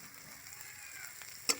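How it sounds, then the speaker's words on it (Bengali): Crushed garlic drops into hot oil and sizzles steadily at low level, a faint hiss that stays even throughout and ends with a brief clatter near the close. "তারপর থেতো করা রসুনগুলো দিয়ে দিলাম তেলের মধ্যে"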